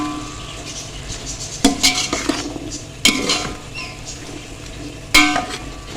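A pot of chana biryani with rice and whole spices is stirred with a metal spoon, which scrapes and clinks against the sides in a few sharp knocks over a steady background rustle.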